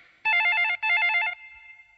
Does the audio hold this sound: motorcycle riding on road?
no